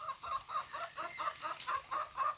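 Hens clucking in a backyard chicken house in Karnataka, a steady run of short rhythmic clucks close by, with a few higher calls mixed in and no talk.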